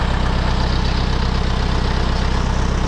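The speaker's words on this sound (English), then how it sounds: "Just one lonely tractor and a 6-row cultivator." A tractor engine drones loud and close as it pulls a 6-row cultivator through corn and soybean fields at night, a steady pulsing rumble with no breaks and no voices.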